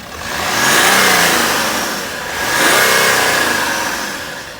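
A BMW E93 325 Cabrio's engine revs twice while in neutral, each rise swelling to a loud peak and easing back, heard up close with no talking.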